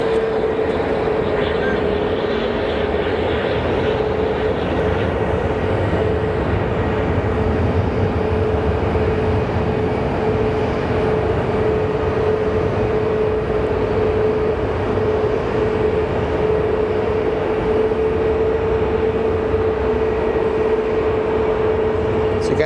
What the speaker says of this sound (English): So up next is American Airlines 1218 coming in from Washington. It's an A321neo